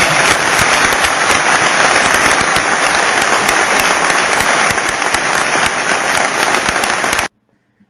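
Loud, dense applause from a large crowd, played back from a recording. It is sustained and crackly for about seven seconds, then cuts off abruptly into near silence.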